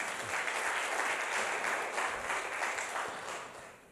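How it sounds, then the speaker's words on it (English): A crowd applauds steadily with dense, continuous clapping that slowly fades toward the end. "Give him a big clap"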